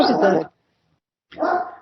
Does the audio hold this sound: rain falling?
no